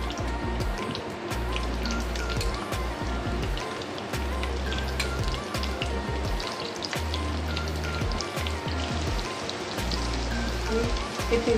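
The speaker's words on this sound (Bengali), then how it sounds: "এবার আমি পেঁয়াজ ফোড়নটা দিয়ে দিচ্ছি" Onions dropped into hot tempering oil with cumin and fenugreek seeds make a steady, close, rain-like hiss and crackle that lasts throughout, with no talking.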